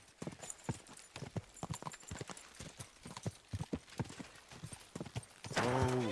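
Rhythmic clip-clop of horse hooves at a brisk pace, with a horse whinnying near the end, in the video game Kingdom Come: Deliverance II.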